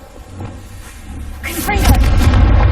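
The Revelio revealing spell cast in Hogwarts Legacy, a rising whoosh that builds into a low, booming pulse with shimmering accents, fairly loud and sustained.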